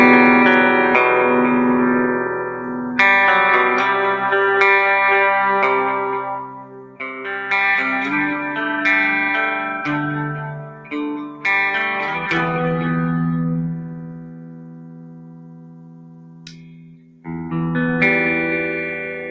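An electric guitar played on the bridge pickup through a distortion effect rings out in sustained chords and single notes with gaps between phrases, loud and up close with no voices.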